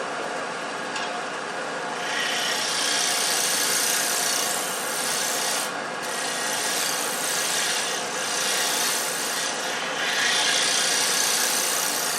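A half-inch bowl gouge cuts into a bowl spinning on a wood lathe for a decorative inlay piece, giving a steady, fairly loud scraping hiss of wood shaving with slight swells, heard alone without speech.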